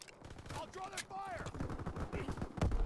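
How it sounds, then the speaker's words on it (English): Gunfire in a World War 2 video game crackles in quick bursts under a player's live commentary, with whistling tones and mixed game noise in the background. "where am I getting shot from?"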